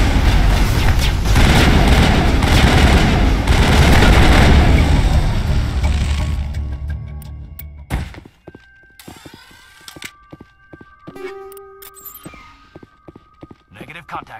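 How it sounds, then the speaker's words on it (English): A heavy burst of Mass Effect gunfire and booms dominates the opening, then fades into scattered sharp shots and sci-fi tones as a firefight ends, with voices over the action. "Open fire. Open fire!"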